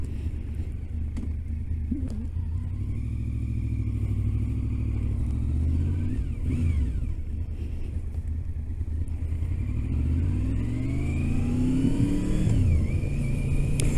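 A motorcycle engine runs steadily while being ridden near Windermere in the Lake District, droning loud and continuous throughout, with rising and falling pitch sweeps as the rider shifts and accelerates.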